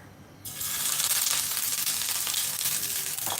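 Ginger sizzling loudly as it hits hot oil in a pan while jollof rice is being cooked with green peppers and grated tomatoes; a quiet start gives way to a sudden, steady, bright hiss that holds to the end.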